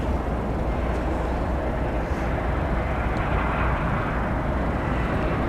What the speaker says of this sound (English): Poised for takeoff there is Flight 1242 to Portland, Oregon, Airbus A321.